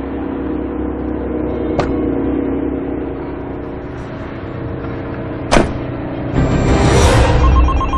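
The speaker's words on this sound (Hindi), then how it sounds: "आपका फोन बज रहा है।" A phone rings inside a car with its engine running: a clicking thump comes first, then a bright repeating ringtone builds over the steady motor hum near the end.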